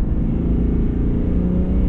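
A GMC Sierra 1500 Duramax diesel pickup with a 10-speed automatic under full throttle, a steady loud low engine rumble and drone heard from inside the cab, with no voices.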